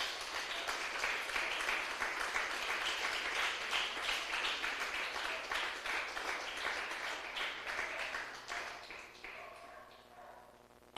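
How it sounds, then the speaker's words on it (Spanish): A church congregation claps loudly together in a dense, sustained round of applause that slowly thins out and fades toward the end. "Denle un aplauso fuerte al Señor, aleluya."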